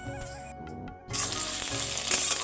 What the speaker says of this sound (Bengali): একদম আলুটা ভেজে নিয়ে আমি একটু ডাঁটাগুলো আর কি কেটে নিয়ে ওর সঙ্গেই ভেজে নিচ্ছি